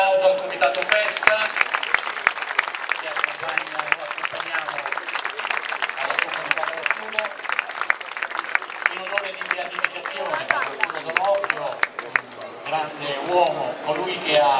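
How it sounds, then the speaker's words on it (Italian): A festival crowd applauds the local festival committee during a 2022 votive float celebration, producing dense, sustained clapping that stays loud and continuous throughout, with an amplified voice speaking over it. "un bel applauso al Comitato Festa"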